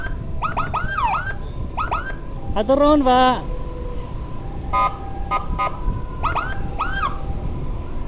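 Wailing ambulance siren escorting a body from an Islamic boarding school, rising and falling in repeated yelps with a louder horn-like blast midway, heard over road noise while someone speaks briefly.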